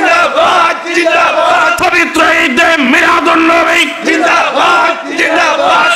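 A loud crowd at a religious gathering chants the takbir, Allahu Akbar, in unison, voices swelling together in strong rhythmic shouts close and dense.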